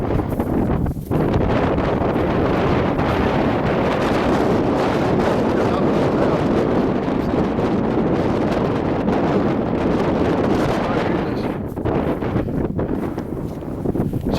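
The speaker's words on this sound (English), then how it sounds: "Sorry about the wind." Strong wind buffets the microphone on a mountain summit in Scotland near Crieff, a loud continuous roaring rumble that barely lets up throughout.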